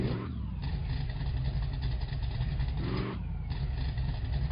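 A car engine on a dyno holds at a loud, steady drone that dips briefly twice as the revs change.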